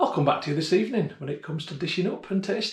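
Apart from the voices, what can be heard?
No everyday noises stand out.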